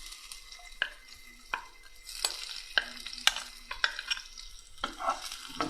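Carrot pieces hitting hot oil and being stirred in a pan, with bursts of sizzling and scraping strokes recurring every second or so against a steady low fry, close and fairly quiet.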